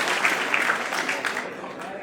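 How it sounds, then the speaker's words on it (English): An audience at a school quiz semifinal claps in a dense, steady round of applause that fades slightly toward the end, with a voice speaking faintly over it. "all of you can clap"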